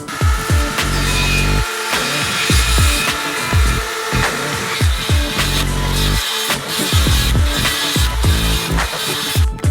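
A saw cuts a relief cut through timber boards, a loud close rasping that runs almost continuously with rhythmic stroke-like pulses, no voices.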